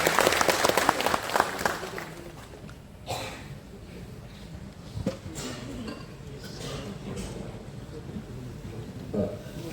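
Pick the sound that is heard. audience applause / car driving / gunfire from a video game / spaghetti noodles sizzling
audience applause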